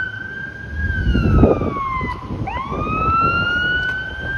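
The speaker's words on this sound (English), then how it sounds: "there's the ambulance just straight ahead" An ambulance siren wails on a Toronto street, its tone sliding down and then sweeping back up, loud and fairly near over traffic rumble.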